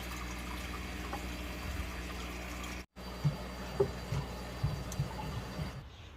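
Cleaning product and water poured into a container for cleaning a lawnmower: a steady liquid stream with a brief break partway, then soft drips and splashes before it stops, close and moderately quiet.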